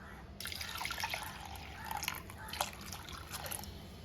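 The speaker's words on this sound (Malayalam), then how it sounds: "ഇതിലേക്ക് ആവശ്യമായ വെള്ളം ചേർത്ത് കൊടുക്കാം" Water is poured into lentils in a cooking pot along with slit green chillies, a faint splashing and dribbling trickle starting after a short pause and running for several seconds, quiet and close.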